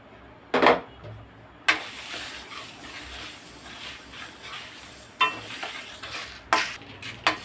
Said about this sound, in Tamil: அதையுமே நம்ம நல்லா அடுப்பை சிம்மில் வச்சுட்டு பொறுமையாக வறுத்து எடுத்துக்கலாம். அது கூடவே நான் காஞ்ச மிளகாவும் போட்டுக்கிறேன்.